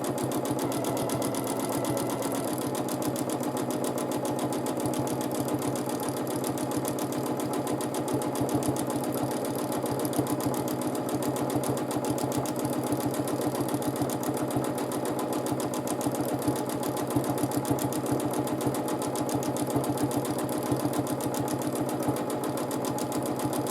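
A sewing machine stitching a wishbone quilting pattern on a baby quilt, its fast needle running as a continuous even whir with a rapid mechanical pulse, steady and close for the whole stretch.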